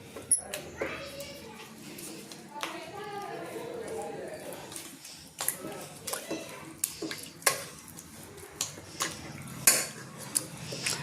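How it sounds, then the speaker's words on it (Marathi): A spoon scrapes and clinks against a metal pot while breaking up thick, set milk cream with a little water to make ghee, giving repeated sharp knocks and scrapes in an uneven rhythm, with faint voices in the background. "जी घट्ट साई आहे ती अशी चमच्याने आजी फोडून घेते साई."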